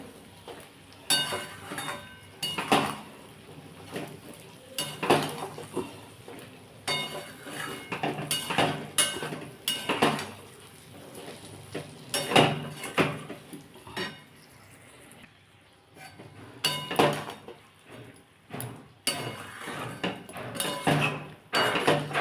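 Metal spoon clinks and scrapes in a pan of mango pickle in oil, the gas flame off, in a steady run of close, fairly loud strokes with short pauses and no talking.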